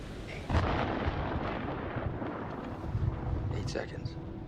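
A thunderstorm rolls over a boat at sea in the Man of Medan game, a sustained low rumbling roar that surges early and holds steady, with thunder swells beneath faint wind.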